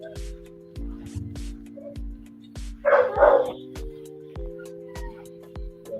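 A dog barks in a short burst of a few quick barks over a steady background hum and regular ticking clicks.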